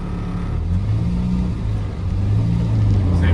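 A Morris Minor drives through city traffic, its mid-pitched engine hum steady and close, with a low rumble that swells slightly toward the end, no talking.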